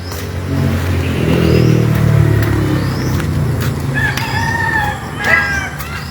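Backyard chickens cluck and a rooster crows nearby over a low rumbling engine, followed by several sharper, higher squawks and crowing calls from the poultry.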